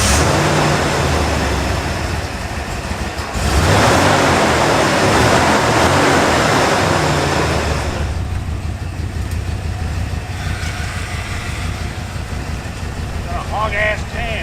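An old OBS Ford truck, revived after sitting 14 years, drives around the block with a continuous engine rumble and a loud surge of rushing noise midway, then quieter cruising as voices talk inside the cab.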